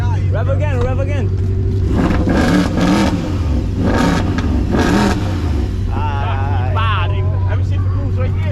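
A V8 car engine at a street car meet revs in several sharp bursts over a loud idle, close by, with people talking and shouting around it.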